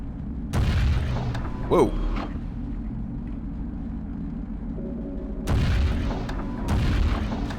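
Submarine gun in the 2001 game Aquanox firing at large underwater turbines: deep booming blasts with mechanical rumble, one near the start and two more near the end over a low hum, with a brief exclamation from a voice.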